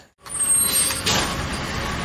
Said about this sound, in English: Gotta love that garbage truck.